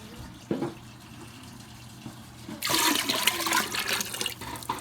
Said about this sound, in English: Now we need water, lots of it. Fill it all the way up.